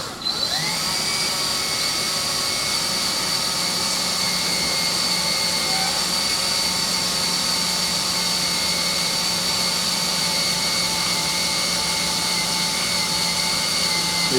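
A drill with a sharp bit bores steadily into a broken bolt during an extraction, giving a loud, continuous whine that holds at one pitch with no talking.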